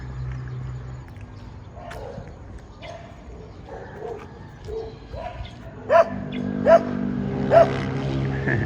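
Dogs bark on a street in the Philippines, three loud barks near the end after quieter yips and whimpers, amid street ambience and a voice.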